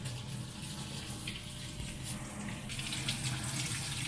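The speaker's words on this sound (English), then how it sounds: "You just want to quickly rinse it off" Tap water runs steadily over raw lamb chops in a kitchen sink, a continuous close splashing rush with no voices.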